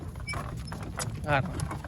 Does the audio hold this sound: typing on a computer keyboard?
no